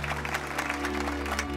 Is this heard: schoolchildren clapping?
yes